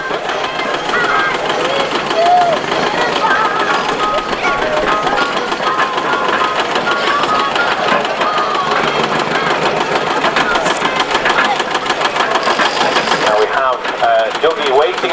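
A small Wallace Stevens diesel road roller chugs along at a vintage vehicle gathering with a steady, knocking engine rhythm that carries on for the whole stretch under people talking nearby.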